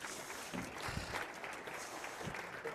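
A theater audience at a magic show applauds a volunteer named Glenn as he walks up; the clapping is soft and distant, a steady wash of many hands without any talk.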